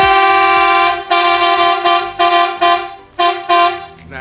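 A Marco LC80 truck horn is demonstrated at a garage shop event, blaring loud and close: one long blast of about a second, then a run of shorter blasts in quick succession.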